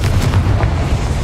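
Confringo spell blast in the video game Hogwarts Legacy: a loud, heavy explosive rumble with a few crackling pops near the start, lasting just over a second with no voices.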